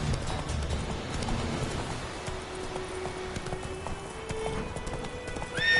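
Geralt's horse Roach galloping in The Witcher 3: Wild Hunt, a rapid, steady clip-clop of hooves with a brief neigh near the end.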